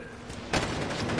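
In the video game A Way Out, a quieter stretch gives way to a sudden loud volley of rapid gunfire that keeps going, with faint voices underneath.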